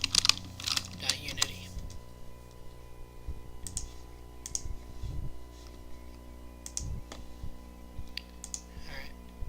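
Computer keyboard typing with scattered clicks and key taps, fairly quiet and close, under a faint steady hum during software setup.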